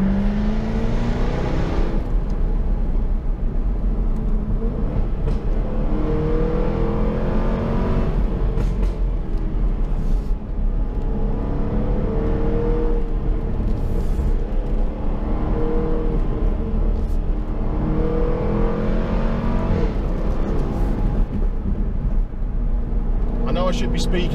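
Jaguar F-Type V6 and V8 sports cars revving hard on a dry, twisty road in Wales, a loud continuous engine roar rising and falling through gear changes with no talk over it.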